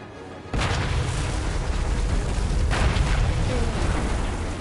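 A bomb explosion in the War Thunder video game, a sudden loud boom that swells into a sustained broad rumble lasting several seconds, heard up close.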